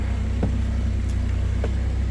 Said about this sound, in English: Truck's running super quiet.